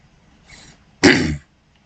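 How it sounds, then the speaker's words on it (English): A single harsh cough or throat-clearing burst, close and fairly loud, preceded by a faint breathy sound, then silence. "Excuse me for coughing so much."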